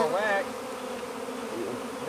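Honey bees buzz faintly around their hives, a soft steady drone with a brief higher whine of a single bee passing close at the start.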